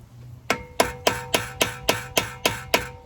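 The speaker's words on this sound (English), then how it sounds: "start smashing it in there with a hammer" Nine sharp, evenly spaced hammer blows ring out as a screwdriver is driven into a stripped vehicle bolt, each metallic strike clear and close with a short ringing tail.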